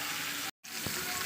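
Fish frying in oil in a frying pan makes a dense, close, continuous sizzle, briefly cut off, then resuming just as strongly with a soft bump.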